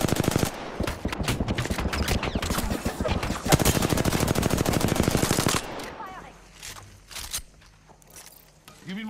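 Rapid automatic gunfire in the Apex Legends video game, sustained loud bursts for several seconds, then stopping abruptly and giving way to quieter scattered shots and movement.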